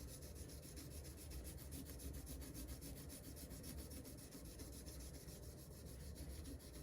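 Metal from a pinball machine is hand sanded with fine abrasive pads, making a faint, steady, continuous rubbing and rasping with no pauses.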